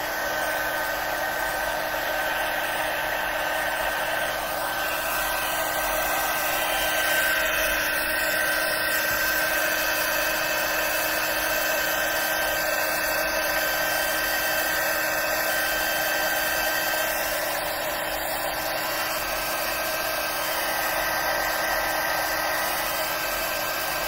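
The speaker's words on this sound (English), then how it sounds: "it does take a bit of time for the heat embossing tool to reach a certain temperature" A heat embossing tool warming up gives a continuous, close whirring hiss with a thin high whine, steady and unbroken for the whole stretch, with no voices.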